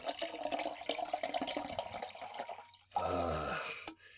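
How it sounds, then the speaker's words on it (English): A drink is poured into a glass, a short burst of liquid splashing and gurgling after some clinking and background noise, close and clear with no talk. "I'm going to pour myself a little drink."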